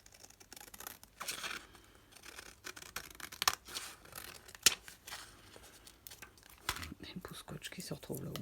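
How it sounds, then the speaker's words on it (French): Scissors snip through paper while trimming the edges of a handmade Halloween craft pouch, giving soft, irregular close-up cuts and crinkles under quiet, intermittent talk. "je découpe ce qui dépasse"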